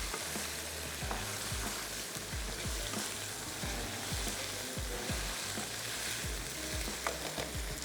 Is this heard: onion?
yes